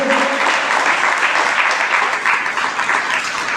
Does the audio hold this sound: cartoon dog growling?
no